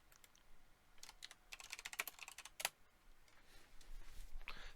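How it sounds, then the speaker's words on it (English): Fast, irregular clicking of typing on a computer keyboard, close but faint, with quick runs of keystrokes and no talk. "So I can type it out correctly."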